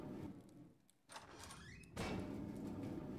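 A door opening in a roleplay video game, heard as a short sliding, whooshing swing with a rising tone partway through and a louder, steady burst of game ambience after it.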